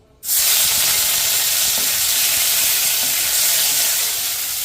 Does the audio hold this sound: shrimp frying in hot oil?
yes